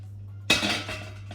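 A sudden clatter of sour cherries dropped into a metal pot for compote, a clanking rattle that settles into fading rustles over a low steady hum.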